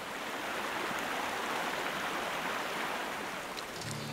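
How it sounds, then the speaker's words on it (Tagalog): River water rushing steadily over rocks along a rocky riverbed, a continuous broadband flow that holds close and loud the whole way, with no voices. "nasa batuhan sa ilog kung saan hindi tumitigil ang daloy ng tubig"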